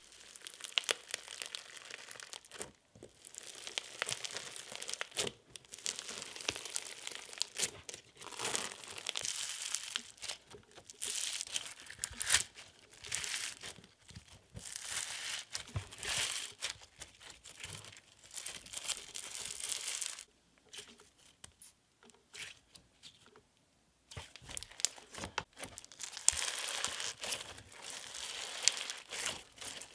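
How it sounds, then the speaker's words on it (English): Crunchy drizzly cloud slime topped with foam beads, squished and pressed in a steady run of dense crackling, crinkling crunches and small bubble pops, close and fairly loud, with a couple of brief pauses. "top it off with foams for a ton of crunch and super satisfying bubble pops"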